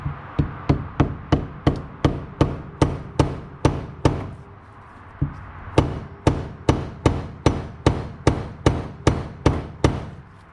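Repeated sharp hammer blows drive a part into a dirt bike shock absorber during a rebuild, about two strikes per second in a steady run, pausing briefly before resuming, loud and close with metallic ring.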